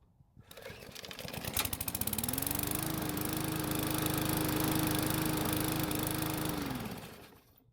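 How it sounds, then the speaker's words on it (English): A Bolens lawn mower's small engine fires up after priming, catching quickly and settling into a steady, loud running drone that holds for several seconds before tapering off at the end, with no talking. "the engine started up with no issues"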